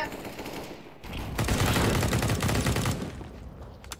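Rapid automatic gunfire from CS:GO, loud and continuous bursts that swell in the middle and taper off near the end, close up with no clear speech.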